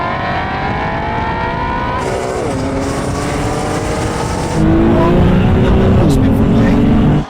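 Two sports cars, a BMW M4 CS and a Shelby Mustang GT350, accelerate hard in a drag race from a 35 mph rolling start in second gear. Loud engine roar climbs steadily and shifts gear, with a harsher surge near the end.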